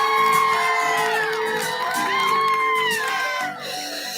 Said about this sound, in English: The audience erupts with claps and cheers.